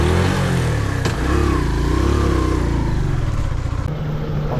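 A motorcycle is ridden along a road, its engine a loud, close, steady drone with rough rumbling and wind noise throughout.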